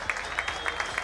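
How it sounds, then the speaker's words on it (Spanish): Applause from a football stadium crowd during a Paraguayan league match between Nacional and 2 de Mayo, a brief burst of scattered clapping with crowd murmur. "Aplausos porque levantaron también los brazos los jugadores de Nacional por el esfuerzo de parte de la hinchada también"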